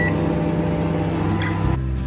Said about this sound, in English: I'm going to keep it in the microwave for a minute, 1 minute 30 seconds to be precise